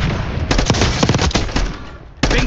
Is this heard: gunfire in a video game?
yes